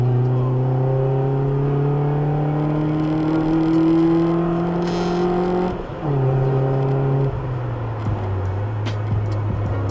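A Mitsubishi Lancer GTS 2.4-liter engine idles steadily with a low, even drone and harmonic hum, dipping briefly then settling to a slightly lower pitch; close and continuous.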